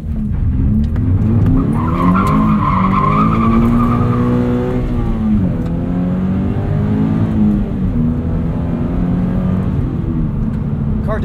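A car on stock brake pads driven hard with added rear grip, its engine roaring loud and close as it accelerates and slides, with revs swinging up and down and tires squealing through the slides without a break.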